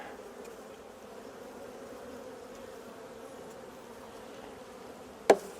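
Honey bees buzz steadily around a hive, a continuous close droning hum that holds throughout, broken once near the end by a brief sharp knock.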